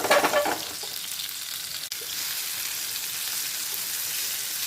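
Fish fillets with masala frying in a nonstick pan, a brief burst of stirring at the start and then a steady close sizzle that carries on alone.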